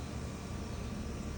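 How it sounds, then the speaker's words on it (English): A home HVAC unit runs outside on a back patio, giving a steady, even broadband whoosh with a low rumble underneath, continuous and unchanging throughout with no talking. "pardon the noise in the background if you hear it."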